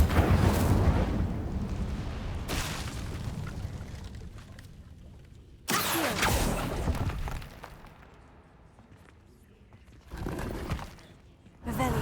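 Incendio fire spells cast in Hogwarts Legacy erupt in loud bursts of whooshing flame and crackle, several blasts rising and fading in turn amid game effects.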